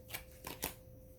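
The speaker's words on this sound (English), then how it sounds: "So I shuffle" Tarot cards being shuffled during a reading: three short papery riffling bursts, close and fairly quiet, with no talking.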